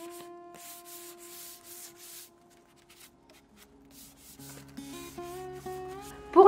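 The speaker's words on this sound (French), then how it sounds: "Un léger égrenage au papier de verre avec la cale à poncer et le grain 120" Light sanding of wood with 120-grit sandpaper on a sanding block, a soft repeated rubbing scrape over quiet background tones, ending in a louder burst.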